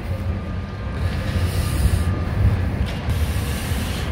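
Sóller tram in Majorca rumbling past in the town, a steady low mechanical rolling sound at moderate distance with no voices.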